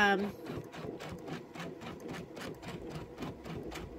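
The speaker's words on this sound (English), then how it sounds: "let's go ahead and stitch in the ditch" A sewing machine stitches in the ditch along a quilt's seams, a rhythmic run of quick needle thumps and mechanical clatter, moderately quiet, starting briefly after a short tonal sound.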